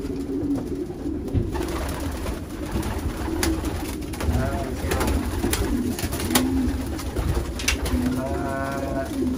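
Pigeons in a Nakamura breeding loft coo repeatedly and overlap against a steady murmur of the loft, with a person speaking briefly in the background.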